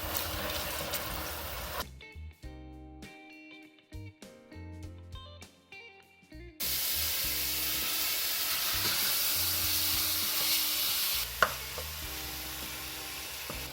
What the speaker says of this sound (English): I'm gonna let this continue to cook in its own juice so it can develop the curry taste before adding water.